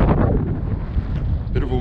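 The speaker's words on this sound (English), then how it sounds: "Bit of a windy day." Strong wind buffets the microphone at an outdoor camp, a loud, continuous low rumbling gust that rises and falls throughout without letup.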